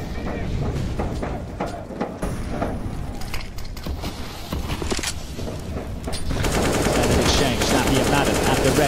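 Rapid gunfire bursts from a Counter-Strike match sound in quick, crackling volleys amid game noise, with a denser spray of shots near the end, under a caster's excited commentary.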